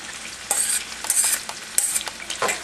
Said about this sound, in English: And we're just going to saute them lightly.